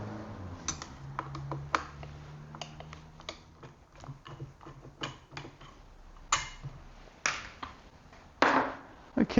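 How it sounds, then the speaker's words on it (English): Small metal clicks and taps from T15 Torx screws being backed out of a Festool BS75 belt sander's housing, a series of short, irregular ticks at close range over a quiet room. "4 Torx screws to remove."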